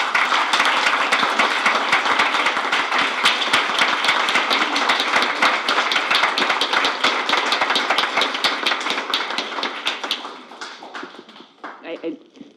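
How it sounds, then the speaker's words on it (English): Sustained audience applause fills a board of education meeting room, dense and steady for about ten seconds before thinning into a few scattered claps at the end. "please join me in giving her a round of applause."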